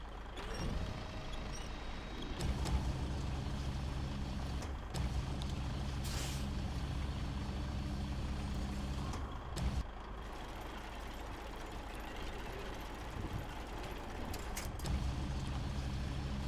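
A truck crane works in the video game SnowRunner, a low idling engine hum broken by hissing air-brake-like releases and mechanical shifts, no talking.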